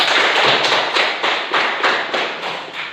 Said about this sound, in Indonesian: Kita kasih tepuk tangan untuk teman kita.